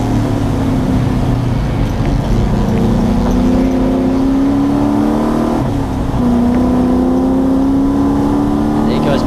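A race car roars around the Wakefield 300 endurance circuit, its loud droning engine note climbing and dipping through gear changes as it turns into a right-hand corner, with a commentator talking over it.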